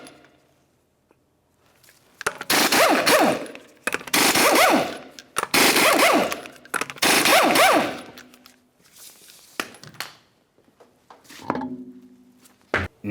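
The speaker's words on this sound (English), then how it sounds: "continue on to removing all 5 of your 19mm lug nuts and then the wheel" An impact wrench removes five 19mm lug nuts from a 2009-2019 Ford Flex wheel. Several loud rattling bursts of about a second each come in close succession, then quieter clanks and handling noises follow.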